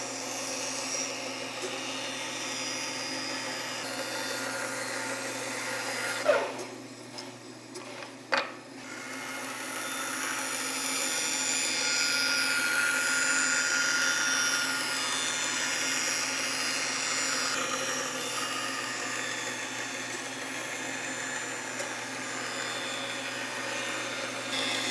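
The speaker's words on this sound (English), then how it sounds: "my preferred method for cutting curves is at the bandsaw" A bandsaw cutting curves in a wooden workpiece, a steady droning whine of the running blade close by, with two brief knocks partway through and the tone shifting slightly as the cut continues.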